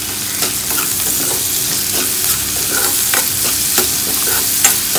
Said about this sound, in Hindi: तो इसको जब तक ये रेड ना हो जाए प्याज तब तक हम इसको फ्राई करेंगे।